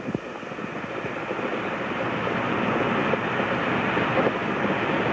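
Space Shuttle Columbia's three main engines throttling up during launch, a continuous broad, distant rumbling roar that swells slightly and holds steady.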